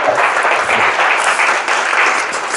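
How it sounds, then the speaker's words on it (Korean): A church congregation applauds loudly during a revival seminar, a thick continuous wash of clapping from many hands that stays even throughout, with hardly any voice over it. "우리 하나님 앞에 큰 박수 한번 올려드려요"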